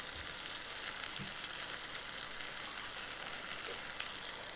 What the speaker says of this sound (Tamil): இப்போ அந்த பூண்டு, அந்த தக்காளி, அந்த வெங்காயம் வந்து நல்லா வதங்கிருச்சு